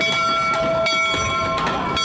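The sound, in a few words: trains passing by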